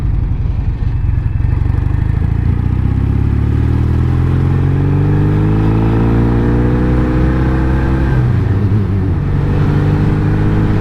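A Norton Commando 850 MK2 classic British motorcycle engine runs steadily, loud and close, with a deep throbbing exhaust and mechanical clatter, its pitch shifting slightly as revs change partway through.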